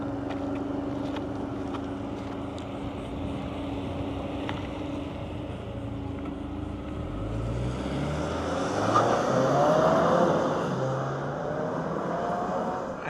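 Inside a 2027 Infiniti QX65 on the move there is a steady low engine and road hum that swells as the car speeds up toward the end, with no talking.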